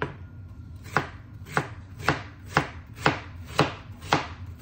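A knife chops through a white onion in seven evenly spaced, crisp strokes about half a second apart, close and clear with no voices.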